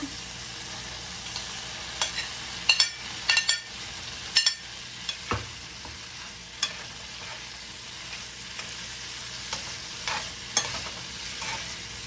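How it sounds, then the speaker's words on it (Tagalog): Bitter gourd (ampalaya) with fried chicken, tomato, onion and garlic in oil, stirred in a pan: repeated spatula scrapes and clacks over a steady low sizzle, with no talking. "So mga kababayan, halo ko na yung aking ampalaya ha."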